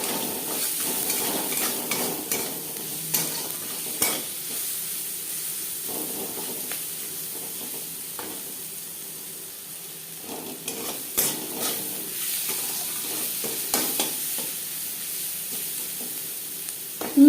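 Onions frying in a pan for a low-oil fish curry, a constant soft sizzle broken by repeated stirring scrapes and spoon knocks against the pan, with no voices.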